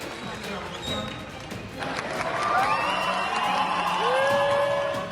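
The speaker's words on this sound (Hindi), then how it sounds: "एक बार फिर से उन तालियों की गूंज" Crowd applause fills a large hall, steady and moderately loud, with scattered cheers and whistles rising over the clapping.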